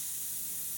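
An airbrush sprays paint in a brief, steady, airy hiss, close and fairly quiet, with no talking.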